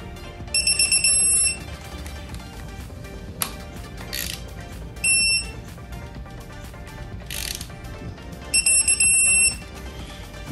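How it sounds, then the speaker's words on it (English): A torque wrench tightens the timing set bolts on an LS engine with ratcheting clicks, and high electronic beeps sound in short bursts as each bolt reaches the set torque. "go grab the torque wrench and torque them"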